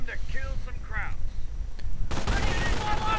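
MG-42 machine gun fire in a WWII strategy game, a sudden loud sustained burst of rapid gunfire cutting in after a short stretch of quieter game sounds and voice.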